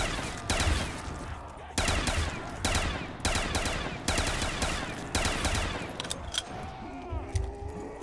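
Rapid automatic gunfire from a weapon in Call of Duty: Black Ops 3 zombies mode on PC, several loud sustained bursts separated by short gaps, ending with quieter game sounds.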